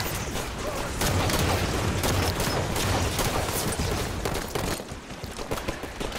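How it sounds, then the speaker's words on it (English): Gunfire in Halo 5 forms a dense, continuous clatter of shots and blasts from pistols and grenades, loud and busy throughout, thinning briefly near the end. "These things are easy, just pop them with headshots with your pistol."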